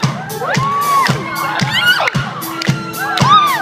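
A live concert crowd cheers and screams loudly and continuously, with high-pitched shrieks and whoops rising over a dense roar of voices.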